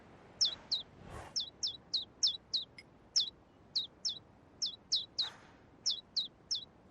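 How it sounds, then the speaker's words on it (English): Hungry baby birds in an adventure game give repeated high, sharp chirps, evenly spaced in quick bursts, clear and fairly close against a quiet background. "Hello, you little, birds."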